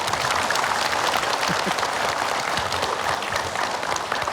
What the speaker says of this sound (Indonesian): tepuk tangan lagi deh